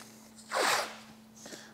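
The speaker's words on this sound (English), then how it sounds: "let's go ahead and tape off the top of the lids" Masking tape being pulled off the roll and pressed onto the tops of Harley-Davidson speaker lids: one loud close ripping tear, followed by a quieter short second pull.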